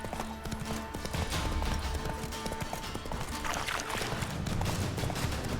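Horse galloping in The Witcher 3 in the Velen region, a fast, steady rhythmic clatter of hooves over continuous ambient game sound, fairly close and sustained.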